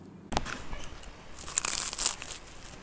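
A crispy croffle, a croissant-dough waffle, is bitten and crunched, giving a few close, dry crackling bites that crinkle and crumble quietly with no talking.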